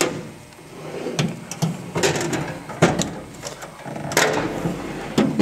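A metal tool box drawer slides open amid a series of sharp clunks and rattles, with several distinct knocks spread across a few seconds, close by and fairly loud, with no talking.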